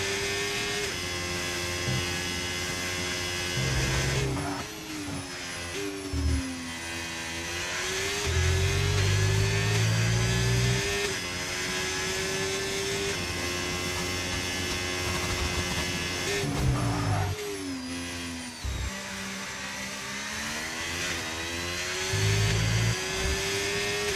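Onboard a Ferrari Formula 1 car on a testing lap in Bahrain, the engine screams at high revs with rising shifts, brief lifts and heavy braking downshifts, loud and continuous with no talking.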